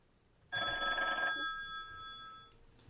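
A telephone bell rings once in a short electronic burst after a number is dialed, clear and moderately close, then the tone lingers and fades, with no talk over it.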